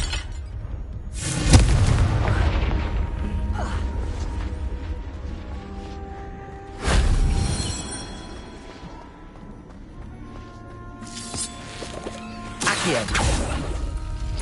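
Confringo fire spells explode in the Hogwarts Legacy video game, three loud booming blasts spaced several seconds apart, each with a crackling burst and a ringing decay.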